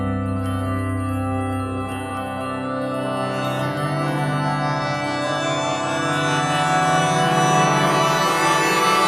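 Sonified radio emission from the Sombrero Galaxy's central black hole forms a dense, sustained drone of layered tones and shimmering overtones, steady and loud throughout, with bell-like and siren-like swells rising gradually.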